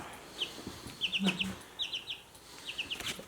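A baby chick with an injured leg peeps in short, high chirps, arriving in quick clusters of three or four with pauses between, close and fairly faint against a quiet room with a brief low murmur.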